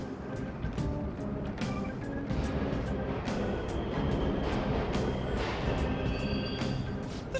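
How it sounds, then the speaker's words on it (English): Subway trains run in Persona 5 Royal, a faint, steady low rumble with scattered clanks and squeals drifting through a station underground, with no voices. "The trains are totally running!"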